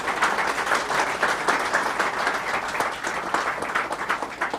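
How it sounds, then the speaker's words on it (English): A conference audience gives a round of applause for the panelists of a plenary session, a continuous patter of many hands clapping at moderate volume with slight swells near the end. "can we have a round of applause for the panelists"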